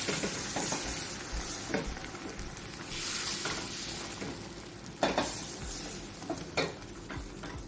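Beaten eggs for a chili crisp omelet sizzle steadily in a hot pan while being stirred and pushed around, with scraping strokes and a few sharper clicks of the utensil against the pan rising above the frying hiss.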